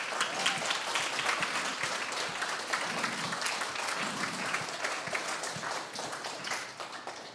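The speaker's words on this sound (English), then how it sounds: "Let's give Eileen a round of applause." A church audience gives a round of applause for a woman named Eileen, many hands clapping in a sustained, even roar throughout, moderately distant and with no speech over it.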